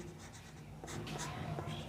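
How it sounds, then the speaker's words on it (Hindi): Pen or marker writing out a matrix algebra solution by hand, a soft continuous scratching of strokes that grows a little louder partway through, heard alone without talk. "हम लोग पहले लिखते हैं सॉल्यूशन में"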